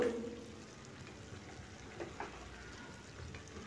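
Tandoori chicken tikka pieces fry in a pan over medium heat, giving a soft, steady sizzle with a few small pops and crackles. It is faint and close, with no talk.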